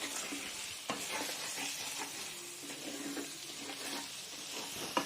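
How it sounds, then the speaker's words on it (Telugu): A beaten egg mixture being stirred in a hot frying pan for an egg porutu: a steady bright sizzle with scraping spatula strokes and occasional sharper knocks against the pan, close and continuous, with no voices. "తిప్పుకుందామండి, కలుపుకుందాం"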